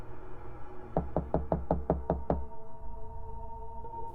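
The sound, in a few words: knocking on a door at night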